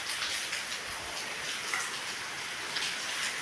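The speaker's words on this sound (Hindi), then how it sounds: "बारिश में भीग रहे गाड़ी" Rain falls steadily on a parked car with a cover, a dense even hiss of drops at close range with faint patters and no voices.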